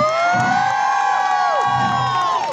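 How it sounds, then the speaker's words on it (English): An audience at a women's empowerment march cheers and whoops for a speaker named Abigail, with loud sustained shouting and voices rising and falling throughout. "Can we give Abigail another round of applause?"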